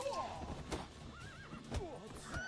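A horse neighs and whinnies in The Witcher 3 amid battle noise, with hoof clip-clops and brief voices mixed in across a busy game soundscape.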